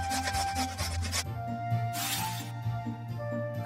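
A toy grater scrapes a pizza ingredient in steady rubbing, rasping strokes, close and fairly quiet, with a bright burst of scraping partway through and no talking.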